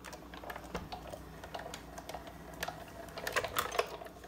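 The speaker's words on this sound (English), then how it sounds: "and then run that through your Big Shot." Cardstock cranks through a Big Shot embossing machine with a clear cutting plate, a close series of uneven clicks and ratcheting ticks that grows busier toward the end, with no voices.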